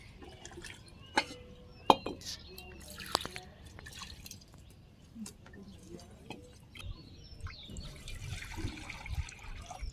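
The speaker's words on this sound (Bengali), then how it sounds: "টমেটোগুলো ধুয়ে পরিষ্কার করে নিই" Tomatoes being washed at home before cooking with rohu fish, with irregular drips and trickling water splashing in a sink, interspersed with sharp clicks and handling noises at moderate volume and no talk.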